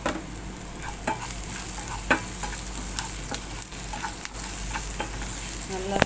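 Vegetables for veg potato tacos sauté in a pan on a tawa, with steady close sizzling and repeated scraping clicks of a spoon stirring through, no talking.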